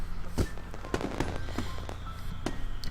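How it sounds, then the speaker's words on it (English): Fireworks burst during a festival scene in a visual novel game, a string of sharp pops and crackles scattered at uneven intervals over a dense, rumbling backdrop. "the whistle of the first firework rings out before it explodes into a vibrant shower of blue against the night sky"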